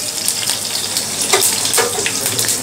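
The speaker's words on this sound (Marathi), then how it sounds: "हिरवी मिरची, कढीपत्ता, हिरवी मिरची थोडीशी परतून घेऊया." Green chilies and curry leaves fry in hot oil with mustard seeds and cumin for a tempering, giving a steady close hiss and crackle with a few brighter spits, no talk over it.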